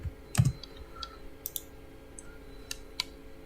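Typing on a computer keyboard during a League of Legends game: a few faint, scattered key clicks and taps, quiet and sparse, with no talking.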